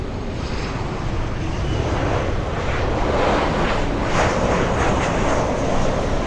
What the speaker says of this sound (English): We have an Alaska Horizon University of Washington livery flying in from San Francisco.